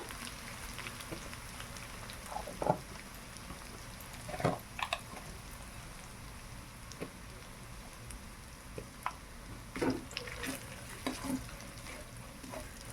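Chicken frying in a pan with ginger as turmeric and chili powder go in: a soft, continuous sizzle with scattered spoon scrapes and clinks throughout.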